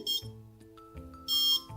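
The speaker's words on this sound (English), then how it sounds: "now it beep 3 times, meaning it's a 3S battery, and then another long beep" Three short electronic beeps sound close by as a 3S battery is connected to a model's electronics, followed by a longer steady tone, with faint background hum between them.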